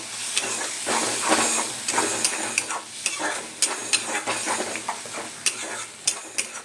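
Tomato, ginger and garlic paste being stirred in a hot wok, a continuous sizzle broken by repeated scraping strokes and sharp clinks of the spatula against the pan, close and clear with no talking.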